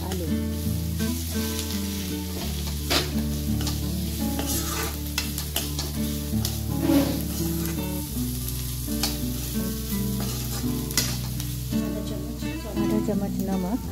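Boiled, chopped potatoes for Goan-style batata poha are stirred in a hot, sizzling pan, giving a steady frying hiss with scraping spoon sounds, up close over a continuous music bed.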